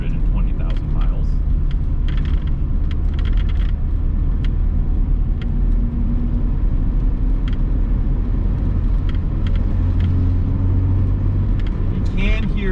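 1982 BMW 320is with nearly 220,000 miles, engine held at about 2,800 RPM while driving, a steady droning hum and road rumble filling the cabin, with a voice talking over it.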